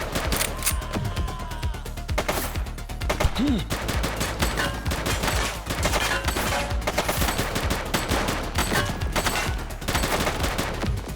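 Rapid bursts of gunfire and fusillades ring out in a police chase cutscene from The Precinct, sustained and loud over roughly eleven seconds with dense overlapping shots.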